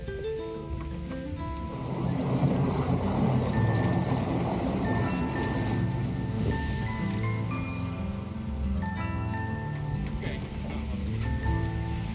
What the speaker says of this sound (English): I'm releasing the sheet so the sail collapses and Fabio can pull the sock down over the sail